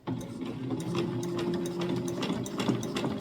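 A sewing machine runs steadily, joining the bottom of a stuffed fabric turkey to its flat body piece, with a close, continuous motor hum and rapid needle clatter and no voices.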